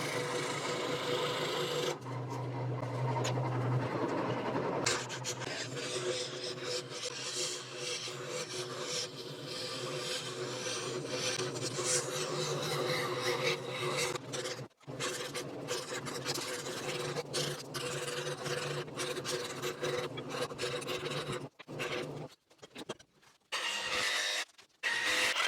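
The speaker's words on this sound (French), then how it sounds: "lors de l'utilisation de la scie sauteuse, vous voyez là quand je fais surtout les bois du renne" A jigsaw cuts wood for the antlers of a wooden reindeer Christmas ornament, a steady close buzzing cut that runs for much of the time with brief pauses and breaks toward the end.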